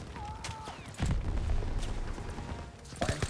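Gunfire in the World War II shooter Call of Duty WW2, a steady spatter of shots with heavy low thumps over a rumbling battlefield bed, followed by a sharper burst near the end.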